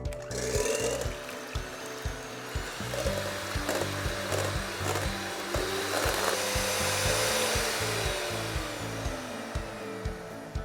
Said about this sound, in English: So I'm going to start off on a slow setting and then work up to a higher setting on my whisk here.